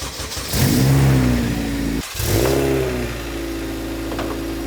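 A K20-engined Honda Civic EJ1 fires up for the first time, cranking briefly before catching, then revving in two rising bursts that settle into a steady, loud idle close by.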